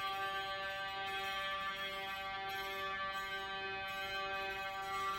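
An EBow sustains a clean note on a Telecaster's strings, a steady, soft, organ-like drone that holds evenly without attack or decay for several seconds, alone and fairly quiet.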